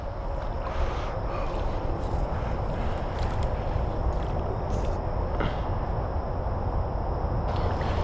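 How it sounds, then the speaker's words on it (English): Wading through shallow water in a small swampy creek, with steady broadband sloshing and splashing close by, continuous and fairly loud throughout, with some wind noise and no talking. "All right, let's start wading."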